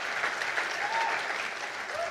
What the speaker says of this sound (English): Can I get another round of applause for that?